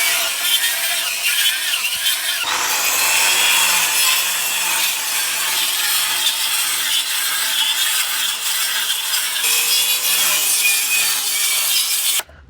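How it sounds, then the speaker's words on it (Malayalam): Wood being sawn to cut a piece for the upper side of a boat under construction, a loud, close, continuous rasping saw with a steady rhythmic stroke pattern running throughout and stopping abruptly at the end. "അപ്പർ സൈഡിലെ പീസ് വെക്കാൻ വേണ്ടി മരം കട്ട് ചെയ്യാൻ പോവാണ്."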